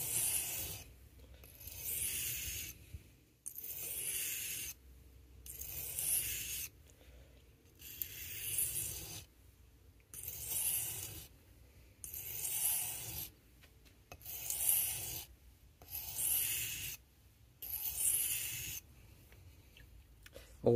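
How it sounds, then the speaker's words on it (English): A vintage Victorinox 84mm Camper Swiss Army knife blade being sharpened on a wet whetstone: repeated rhythmic grinding strokes in bursts of about a second, evenly spaced with short pauses, close and moderately quiet. "we're just going to put a nice little edge on the knife"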